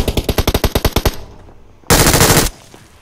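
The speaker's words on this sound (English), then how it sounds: "That's a nice gun, that MG3." An MG3 machine gun fires in a video game: a rapid burst of about a dozen loud, evenly spaced shots, a short pause, then a dense sustained blast of gunfire, close and alone.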